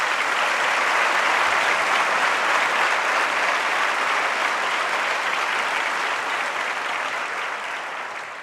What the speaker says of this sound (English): I think we should all give a big round of applause.